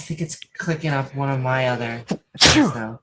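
A person talks briefly, then a single sharp, loud sneeze bursts out close by at the end.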